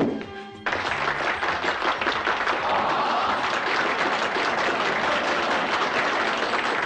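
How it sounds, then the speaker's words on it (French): A theatre audience applauding a drag performer at a cabaret revue, sustained dense clapping that starts abruptly and holds steady and loud throughout. "Ils se sont déplacés pour toi. Pour t'applaudir. Pour applaudir la grande Zaza Napoli."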